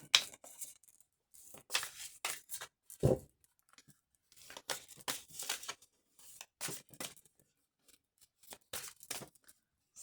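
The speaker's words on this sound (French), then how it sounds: "je recommence à mélanger mes cartes" Oracle cards being shuffled by hand: quiet, close, irregular bursts of papery riffling and sliding, alone with no talking.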